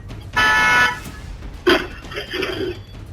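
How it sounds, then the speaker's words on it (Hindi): A car horn gives a single loud, sustained honk on a road, followed by passing traffic noise and faint voices. "पीछे आ रही कार ने पहले हॉर्न बजाया"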